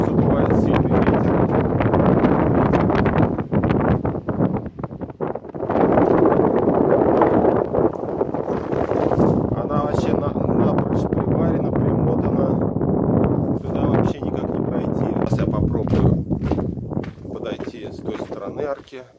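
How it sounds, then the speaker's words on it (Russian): Strong wind roars through a rock arch on a coastal trail at Novy Svet, Crimea. The wind hits the microphone as loud, continuous gusty buffeting, and a voice is heard speaking at times. "Сквозь арку задувает сильный ветер."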